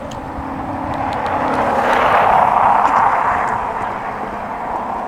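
Mokwheel Tarmac ST e-bike climbing a bridge grade on throttle alone, set for 28 mph: a steady broadband whir of motor and rushing wind that swells in the middle and eases slightly toward the end, with no talking.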